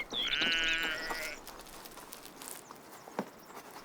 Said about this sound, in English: The greenlands between the oaks are grazing grounds for the sheep.